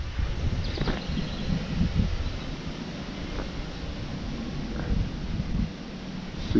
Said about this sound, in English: Super duper windy, guys.